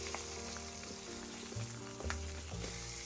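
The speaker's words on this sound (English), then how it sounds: "I'm ready to flip my salmon over" A salmon fillet sizzles skin side down in a hot oiled pan, giving a steady close crackling hiss with a few faint clinks of utensils.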